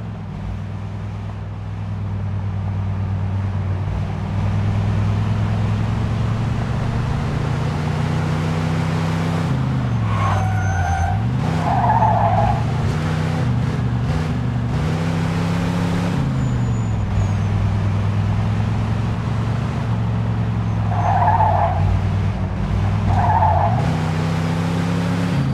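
Car engine droning steadily while driving in Mafia II, loud and continuous, with a few short tire squeals as the car skids and slides.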